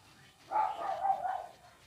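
A dog in the Sonic Battle video game gives a short burst of a few quick yips and barks. It is fairly faint and sits on a quiet background.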